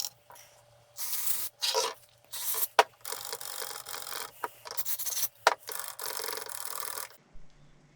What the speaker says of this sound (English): Give it all a squirt of contact cleaner.